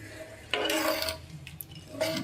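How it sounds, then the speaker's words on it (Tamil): Moong dal and foxtail millet stirred in a pot for thinai pongal, a few soft scraping and clinking strokes of a spoon against the pot over a low simmer. "சேர்த்துட்டு நல்லா ஒரு டைம் கலக்கி விட்டுட்டு"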